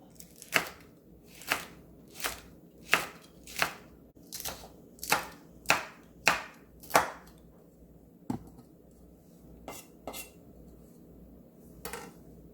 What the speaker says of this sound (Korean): 홍고추와 청고추를 총총총총 썰어줍니다.